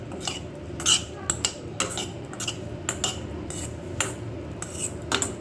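A spoon stirs a pasta mixture in a metal pan, giving repeated close scraping clinks in an irregular rhythm over a steady background of cooking noise.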